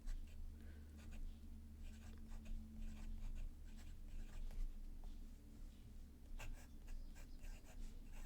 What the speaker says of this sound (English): it writes sort of like a fine, extra fine to fine